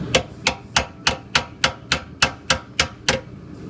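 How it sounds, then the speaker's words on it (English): Hammer blows tapping a shock absorber bolt out of a Mustang 8.8 rear axle, with a nut threaded on to protect the threads: eleven sharp, evenly spaced metallic taps at close range, with no talking. "And you're gonna tap it right out."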